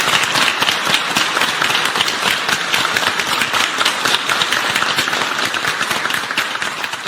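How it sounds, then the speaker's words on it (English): A large audience gives sustained, dense applause welcoming China's General Secretary and other party leaders, loud steady clapping filling the whole stretch without pause. "Now please join me in a warm applause to welcome the General Secretary"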